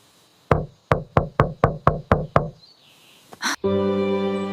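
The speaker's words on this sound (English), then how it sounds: "I will knock on the door." Eight evenly spaced knocks on a wooden door land close and crisp, each decaying quickly, followed by a brief higher tap and then a sustained steady tone that begins after the knocking.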